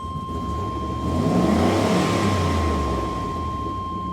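A Chevy van with a small 305 V8 engine and 101,000 miles idles and revs, a steady low rumble that swells in the middle and settles back, heard close and alone under a constant high whine.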